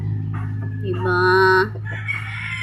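A rooster crows loudly and close by, one long harmonic call in the middle, while hens cluck softly around it.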